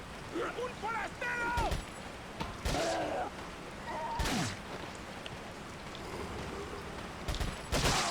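Bursts of TMP submachine-gun fire in the video game Resident Evil 4, several short sharp volleys scattered among game sound effects and creature cries, fairly faint overall.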